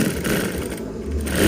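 A sewing machine stitches the hem of a Lao sinh skirt, giving a steady, continuous close-up whirring drone with no breaks.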